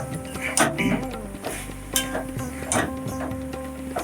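Chicken for a chicken malai curry being stir-fried in a pan, with scattered clinks of a spoon against the pot and a soft sizzle underneath, while someone talks over the cooking.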